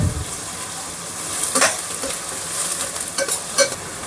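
Green chillies stir-fried in a pan for a mushroom masala curry, a loud close sizzle with a few sharp spatula scrapes and clicks toward the end, no voices.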